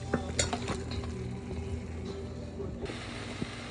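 Chicken pieces added to a pan for chicken curry and stirred, with clattering spoon-on-metal knocks and scrapes over a soft sizzle, close and fairly quiet.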